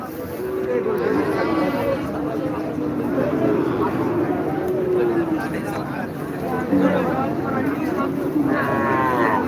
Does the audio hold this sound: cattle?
yes